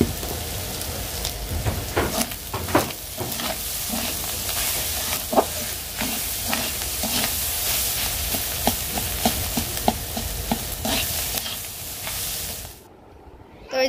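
Fish roe frying in a pan, a steady close sizzle with repeated scraping stir strokes throughout, cutting off near the end.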